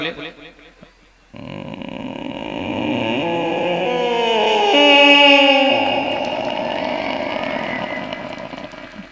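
A comedian on stage mimics a slow, creaking door opening, a drawn-out groaning squeak that rises and wavers before cutting off, over a steady background drone.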